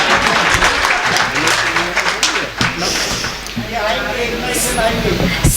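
A seated audience at a patriotic song performance claps steadily, a dense crowd applause that holds throughout at moderate loudness, with a voice speaking over it.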